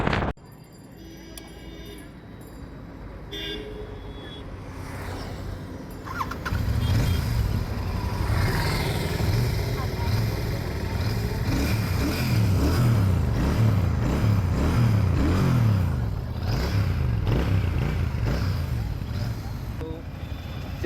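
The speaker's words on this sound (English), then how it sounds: "This is the exhaust sound of Royal Enfield Shotgun 650." A Royal Enfield Shotgun 650 motorcycle idles quietly, then its exhaust grows louder and throatier while riding, rising and falling with each shift in engine speed against steady road noise.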